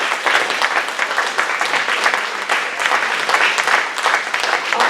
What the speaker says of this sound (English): could we have a really warm round of applause for these?